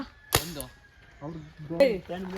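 A sharp toy-gun pop cracks out near the start, with a second snap later, amid children's chatter nearby.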